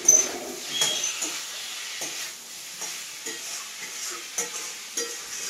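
Fish curry with drumsticks and potatoes bubbles and sizzles in a pan while a spoon stirs through it in repeated scraping strokes, moderately close, with a faint bird call in the background.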